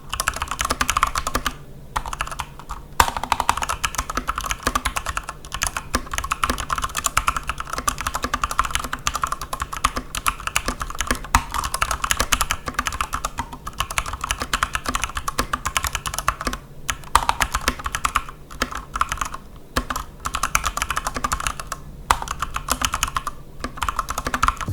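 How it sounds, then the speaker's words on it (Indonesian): Steady typing on a Corsair K65 mechanical keyboard with Cherry MX Silver switches, a close, continuous stream of quick light clacks with a few short pauses. "sekarang kita coba ya dengerin suara yang dihasilkan dari K65 dengan Cherry MX"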